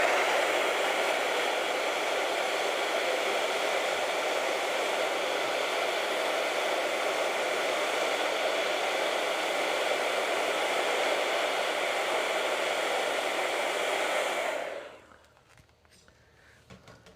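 Close, loud hair dryer drying a coat of acrylic paint, blowing as a steady broadband whoosh for about fifteen seconds before switching off and dropping to near quiet.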